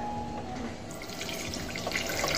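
Tap water runs steadily from a kitchen sink faucet, a continuous close splashing stream that holds at an even level throughout.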